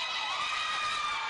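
A large crowd cheers and shouts continuously at a volleyball match in the Cuneta Astrodome, a sustained roar of many voices that stays loud and even throughout.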